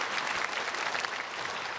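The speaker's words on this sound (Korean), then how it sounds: "우리 크게 박수로 환영하겠습니다" A church congregation claps to welcome newly registered members at a Sunday worship service, a dense, sustained wash of applause heard at moderate volume with no pauses.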